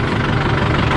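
Steady, loud tractor engine running close by at a riverside in Sadiya, a continuous low rumbling drone with a rough knocking texture and no break, heard alone without talk.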